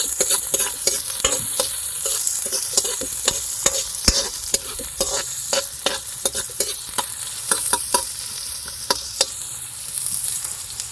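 Garlic, onion and ginger sauté in a little oil in a pan, a continuous close sizzle broken by frequent sharp spatula scrapes and taps, with no voices.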